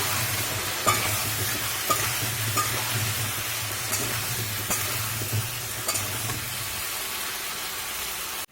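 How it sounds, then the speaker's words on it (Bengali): Potatoes with a little salt and turmeric fry in hot oil for a Kashmiri aloo dum, giving a steady close sizzle with a low hum beneath and periodic stirring clicks of a spatula. The sizzle thins out near the end. "দিয়ে আমি আলুটাকে ভালো করে ভেজে নেব।"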